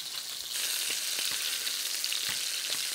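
Chicken browning in a pan for a stew hisses in a bright, steady sizzle that swells after a quiet start, dotted with small pops and crackles.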